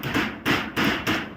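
Nails are hammered into corrugated zinc roofing sheets on a small hut, four loud ringing metallic blows in a steady rhythm, close and harsh with a buzzy sheet-metal clatter after each strike.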